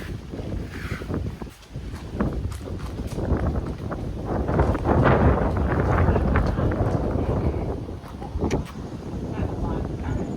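Gusting wind buffets the microphone outdoors beside a canal, rising and falling in loud rumbling surges while people talk nearby.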